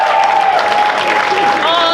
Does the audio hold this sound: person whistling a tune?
no